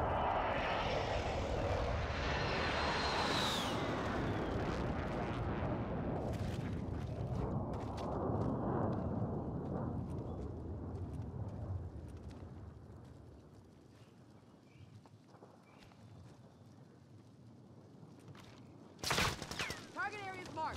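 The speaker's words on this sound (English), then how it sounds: "Precision airstrike" Precision airstrike in a video game, a loud roaring jet pass and rumbling blasts that fade into a long low rumble, then a sudden sharp crack near the end, with voices speaking.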